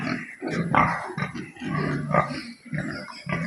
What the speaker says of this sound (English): Pigs are fed and cleaned out.